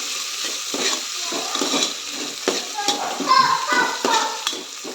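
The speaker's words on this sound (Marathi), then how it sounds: "कांदा पण टाकून घेते. छान असं हे परतून घेते" Onion sautéing in a pan, a soft sizzle broken by repeated spatula scrapes and light clinks against the pan, with brief faint voices in the background.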